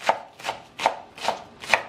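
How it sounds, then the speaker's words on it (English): A knife chops onion on a cutting board in five evenly spaced, crisp thuds, close and clear with no talking. "dice up that onion"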